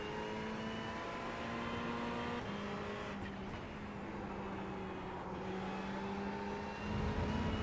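A Ferrari GT3 race car in iRacing at Hungaroring accelerates hard with a steady, droning engine note, climbing in pitch through the gears, with short drops at each shift. The sound is continuous and moderately quiet.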